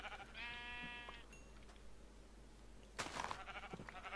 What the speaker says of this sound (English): Those are sheep.